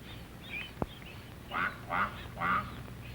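A mother duck on a farm calling her ducklings with three short, nasal quacks in quick succession, preceded by a faint call and a sharp click, over steady background hiss.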